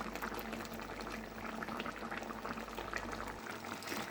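Country chicken gravy with tomatoes and coriander simmers steadily in a pot, a continuous bubbling and boiling that carries on evenly throughout with no voices.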